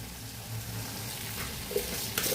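Cashew paste sautéing in oil for paneer malai kofta gives a soft, steady sizzle with faint stirring scrapes near the end, quiet and close with no talking.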